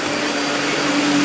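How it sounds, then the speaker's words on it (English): A Fantom Lightning vacuum cleaner runs steadily at night, a close, constant whirring roar with no pauses or voices. "Usually I don't vacuum at night."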